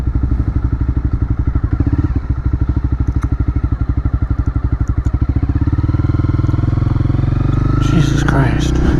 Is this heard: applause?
no